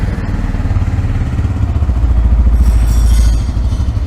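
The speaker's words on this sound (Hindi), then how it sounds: "ये आइडल पे साउंड है," A 2025 Bajaj Pulsar N160 motorcycle engine idles close by with a loud, low, steady rumble that swells briefly before settling back down.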